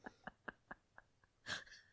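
A performer's voice imitates a sneeze during a tabletop role-playing game session: a run of five or six short, soft gasping catches builds up before one louder, breathy burst, all heard alone and fairly quiet.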